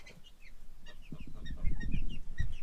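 A breeding pair of quails kept in a pen makes soft, short clucking calls, with a few scattered chirps and low murmuring notes close by, quiet and irregular over a couple of seconds.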